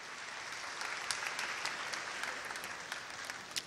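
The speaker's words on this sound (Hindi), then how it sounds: "क्या आपने खवातीन के लिए तालियां बजाई हैं?" A church congregation at an Easter service applauds with sustained, even clapping that fills the room at moderate distance, without voices over it.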